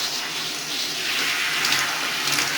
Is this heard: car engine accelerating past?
no